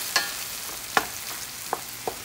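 Tomato sauce goes into a frying pan with steak, Sicilian pizzaiola style, under a constant low sizzle and a few sharp clicks from a spoon or the pan. No talking.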